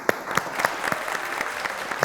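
A studio audience on a television talk show claps for a Pakistani singer, a short burst of scattered, moderately loud claps.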